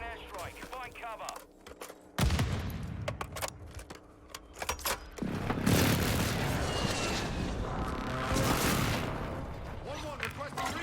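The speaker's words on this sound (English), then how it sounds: "Enemy precision airstrike." Warzone precision airstrike blasts in a battle royale match: a sharp loud impact at about two seconds, then a second heavier rumbling explosion that rolls on loudly under radio-style game chatter.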